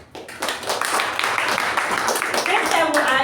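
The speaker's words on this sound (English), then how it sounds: "Please give a huge round of applause for our acting president." An audience at a speaking-club meeting applauds for the acting president, a dense, steady patter of many hands clapping close by, with a voice talking over it.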